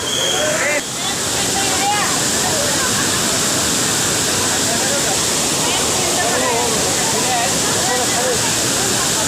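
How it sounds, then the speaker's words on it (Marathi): Loud, continuous rush of water pouring through rocks in a narrow mountain pass near Pavankhind, Maharashtra, a dense roaring torrent close by with faint voices beneath. "खूप पाणी या खिंडीमध्ये चालू आहे"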